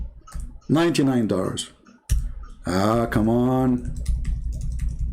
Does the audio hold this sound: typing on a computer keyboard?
yes